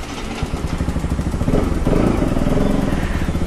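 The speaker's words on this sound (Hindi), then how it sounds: "अपना बाइक अपन ने मोड़ लिया है और अपन निकलता हूँ राइड पे" A Bajaj Pulsar RS200 motorcycle sets off on a ride. Its engine runs with a steady, close, pulsing throb that swells slightly louder as it pulls away. No one speaks.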